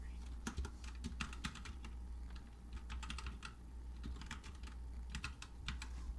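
Light, quick keystrokes on a PinePhone keyboard come in short irregular bursts with brief pauses, close and fairly faint over a low steady hum.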